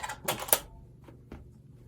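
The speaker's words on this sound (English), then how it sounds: "That was a good space bar." A Razer BlackWidow mechanical keyboard gives a few sharp, close clicks and clacks of keys including the space bar, quick and crisp against a quiet room hum.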